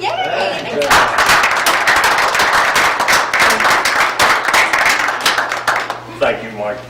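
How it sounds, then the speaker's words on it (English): Meeting attendees applaud in a short burst of close, brisk clapping. Voices come before it and again as it fades. "Then I think we can applaud"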